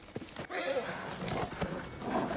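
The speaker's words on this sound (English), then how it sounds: "What's wrong with the horse?" A horse in a Game of Thrones scene whinnies and snorts close by amid shuffling hooves, with faint background voices.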